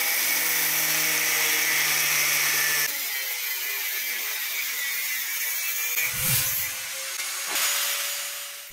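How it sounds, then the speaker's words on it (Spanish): A metal piece for a blacksmith's bending machine is cut with a loud, close power-tool whine that stops after about three seconds, followed by quieter handling noise and a couple of dull knocks. "Colocamos la pieza cortada sobre la otra y cortamos también"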